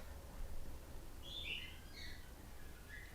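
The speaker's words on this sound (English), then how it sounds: "Can you hear my pet birds?" Pet birds chirp faintly in a quiet indoor room, with a few short, scattered tweets over a low background hum.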